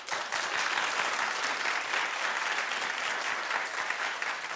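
Studio audience at a daytime talk show applauding in a sustained, dense wash of clapping that holds steady at even volume throughout, with no talk over it.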